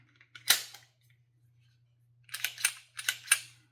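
Stoeger STR pistol slide racked by hand: one sharp metallic clack, then a cluster of four quick clicking snaps a second later, close and crisp over a faint steady hum.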